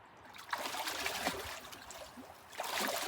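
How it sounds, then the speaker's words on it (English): Water in a fire-heated hot tub being stirred, giving soft repeated swishing and sloshing close by, fairly quiet and without talk. "I'm going to give it another stir"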